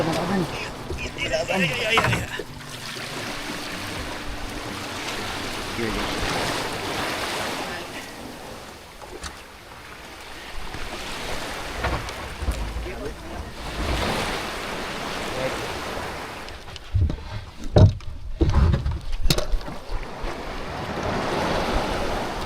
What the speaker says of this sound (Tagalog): Kasakay kami sa bangka. Medyo malikot na yung alon pero okay lang.